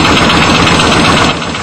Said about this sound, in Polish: Silnik, którego największą zaletą jest elastyczność.